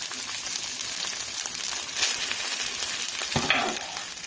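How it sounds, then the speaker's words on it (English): A large batch of rice for hibachi-style fried rice sizzles steadily in a hot pan, a close, dense crackle with a couple of louder scraping stirs partway through. "So we're going to put our rice into the pan now."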